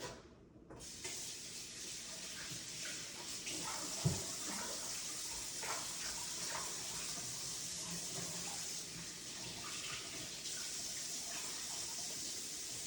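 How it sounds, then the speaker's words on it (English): Running tap water streams steadily into a kitchen sink while hands are washed, a close, continuous rushing with slight splashing variations throughout, no speech. "Then I'm gonna wash my hands."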